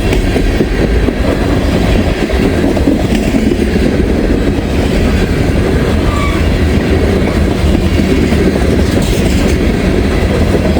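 A CSX or Norfolk Southern freight train rolls past at night before snowfall, a loud, dense rumble of railcars with clickety-clack wheel beats and faint squeals running continuously up close.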